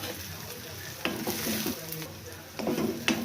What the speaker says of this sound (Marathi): आता आपण त्याच्यामध्ये टाकूया आपले ग्रीन चिली, थोडंसं कोरिअंडर